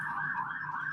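A wailing alarm siren holds a steady, continuous tone for about a second, loud and alone with no talking over it.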